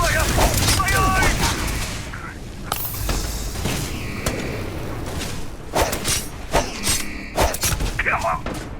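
A firefight in the sci-fi game Starfield brings heavy thumping shots and booms, with scattered impacts and whooshes. Voices shout loudly over the continuous combat noise.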